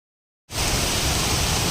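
After a moment of silence, a waterfall swollen by heavy rain near Manudevi temple bursts into a steady, dense roaring rush, heard from a short distance and continuing without a break.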